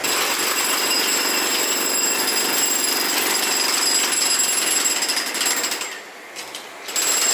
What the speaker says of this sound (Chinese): 正在施工啊